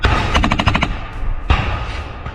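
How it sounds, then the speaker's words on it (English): An MG3 machine gun fires in combat in a forest, heard up close as a loud, rapid burst of about eight shots followed by a single heavy report, with echoes trailing off through the trees. "MG3 machine guns have seen extensive use in the Serebryansky forest"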